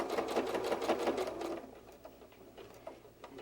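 A sewing machine stitches pieces of wool felt, a close rapid mechanical whirring with a regular needle rhythm that runs steadily, then eases and slows toward the end.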